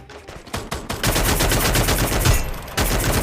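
Gunfire in the Free Fire battle-royale video game during a ranked Platinum match: dense, continuous bursts of shots crackle nearly without pause for about three seconds, loud and close.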